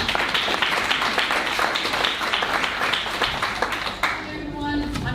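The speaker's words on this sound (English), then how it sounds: "Round of applause for Francesca." Audience applauding a speaker at a mental health talk, with steady dense clapping that thins out near the end as a voice begins to speak.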